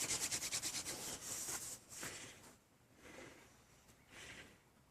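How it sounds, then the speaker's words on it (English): Friction fire drill with a horseweed spindle grinding on a shortleaf pine fireboard, rapid rhythmic rubbing strokes, close and fast at first, then slower, separate scraping bursts. "Horseweed spindle on shortleaf pine fireboard."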